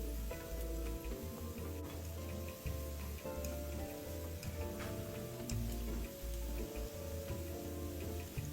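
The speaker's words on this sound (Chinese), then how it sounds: "相同的步骤，将剩余的番薯球油炸至完成。" Sweet potato balls deep-frying in hot oil: a dense, steady crackling sizzle with a rhythmic low ticking pulse underneath, continuous and close, with no talking.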